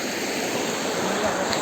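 Steady broadband rush of a waterfall at Nalichuan in Bargarh, Odisha, a continuous roar of falling water heard up close with no pauses.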